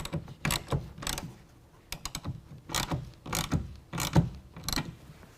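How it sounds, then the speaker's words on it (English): Ratchet wrench with a 9/16 socket tightening a clamp for a BAK Revolver X4s tonneau cover on a 2021 Ford F-150: repeated close, crisp bursts of pawl clicking in uneven strokes, with short pauses between pulls. "And then tighten that down with a 9/16 as well."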